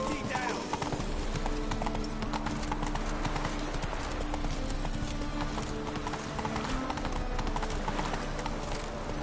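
Roach the horse gallops in The Witcher 3 with a steady, continuous clip-clop of hooves, mixed with busy game sounds and voices.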